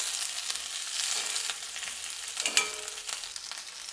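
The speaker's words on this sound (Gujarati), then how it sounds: "બધી જ સામગ્રી કડાઈમાં ઉમેરી દઈશું. ગેસની ફ્લેમ ધીમી રાખશું અને બધી જ સામગ્રી સરસ સાંતળી લઈશું" Tomatoes, ginger and other ingredients sautéing in a kadai over a low gas flame, giving a steady close sizzle and frying hiss throughout, with a few brief stirring scrapes.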